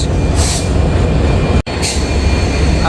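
Shimanta Express locomotive at a Khulna station at night, heard as a loud, steady close-up rumble of the train with hissing noise throughout.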